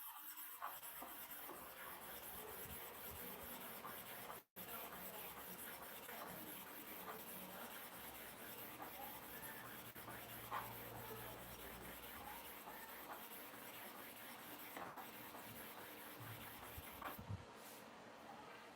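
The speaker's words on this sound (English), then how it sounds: "Zigzag movement in sharpening." Clipper blade rubbed in a zigzag motion across a sharpening stone, a steady close scratchy rasping that runs throughout, faint and even, with one brief dropout.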